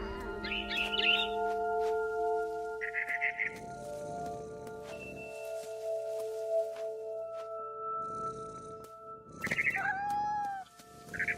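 Cat meows and chirps play out in What Remains of Edith Finch, close and clear over a steady game music backdrop, with a few separate cries and a trill near the end.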